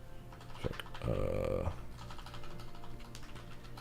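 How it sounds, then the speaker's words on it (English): Someone types on a computer keyboard in quiet clusters of clicks, with a brief louder burst midway as someone talks over it. "I'm just like typing all this shit."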